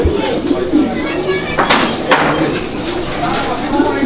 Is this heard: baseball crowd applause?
no